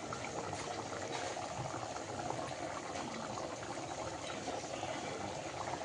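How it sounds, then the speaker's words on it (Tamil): Chicken curry gravy boiling in a pot, a continuous dense bubbling and gurgling that stays even and fairly quiet, with no voices. "இப்போ குழம்பு நல்லா கொதிச்சிட்ருக்கு"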